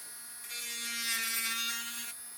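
A handheld electric sander fitted with an unsuited attachment runs with a steady high-pitched buzz, revving up for about a second and a half before easing back down.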